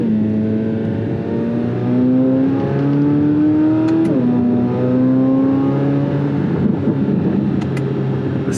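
A Corvette C8 Z06 engine revs hard and winds out, its pitch climbing steadily through the gears in several rising sweeps with brief drops at each shift, loud and close with no talking.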